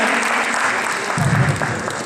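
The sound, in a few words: audience applauding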